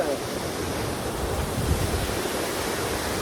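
Steady, dense rushing roar of the Duwili Ella waterfall in Sri Lanka, continuous and fairly loud with no clear breaks.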